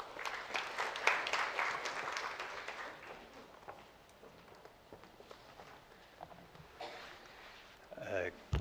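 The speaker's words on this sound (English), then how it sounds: "you get a special applause in the second round" An audience at a leadership panel on sustainable development and climate finance breaks into moderate applause that swells early, then thins into scattered claps and shuffling, and a voice comes in near the end.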